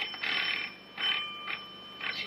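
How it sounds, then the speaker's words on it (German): An electric bell rings in a blue room in the 1932 film The Secret of the Blue Room, sounding in four short bursts of bright metallic trilling with pauses between, fairly clear and alone. "Es klingelt jemand im blauen Zimmer."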